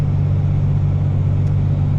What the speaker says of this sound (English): you can tell when the truck plows out, it goes faster